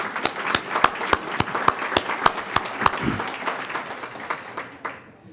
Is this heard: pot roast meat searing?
no